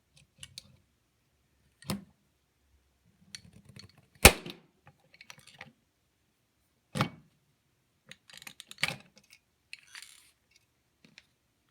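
A hand pop rivet tool sets rivets on a DL-44 blaster prop build, giving sparse, sharp metallic clicks and snaps spaced several seconds apart in a quiet room.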